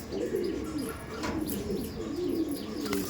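Flying pigeons kept in a loft room coo softly and repeatedly, several birds overlapping in a low, continuous murmur at close range, with a few faint chirps and light rustles.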